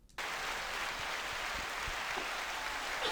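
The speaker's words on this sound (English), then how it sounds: "I hope you guys could hear the applause we just got" A live podcast audience breaks into applause all at once, a dense and steady clapping that carries on evenly from close by with no voices over it.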